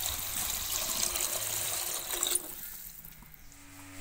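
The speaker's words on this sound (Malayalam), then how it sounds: "നമുക്ക് അതിലേക്ക് അരി വേവിക്കാൻ ആവശ്യമായിട്ടുള്ള വെള്ളം ഒഴിച്ചു കൊടുക്കാം." Water pours steadily into a cooking pot for Lucknowi biryani rice, a continuous trickling gush that stops partway, leaving a quieter kitchen room tone.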